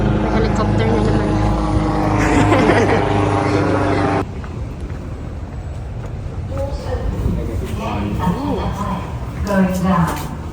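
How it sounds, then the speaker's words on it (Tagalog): A helicopter flies overhead on a hot day in Qatar, its low, steady rumble heard from a distance beneath people talking nearby. "May helicopter na naman."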